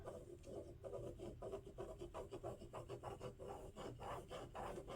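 A heat erasable pen draws a line across fabric while marking a sewing pattern, a quiet rhythmic scratching of short repeated strokes, close and soft.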